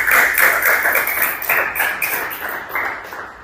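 A class of students claps together in a short burst of brisk, close applause that trails off over a few seconds, with individual hand claps audible within the patter.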